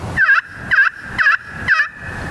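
Four evenly spaced, raspy turkey yelps from a slate pot call, loud and close, in a steady rhythm with no talking.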